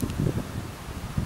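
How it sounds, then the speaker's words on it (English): Wind blowing outdoors near a castle, a steady rough buffeting on the microphone with gusts rising and falling over about a second, close and moderately loud, with no speech. "It's a bit windy."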